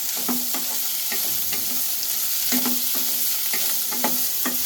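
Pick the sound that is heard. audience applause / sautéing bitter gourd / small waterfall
sautéing bitter gourd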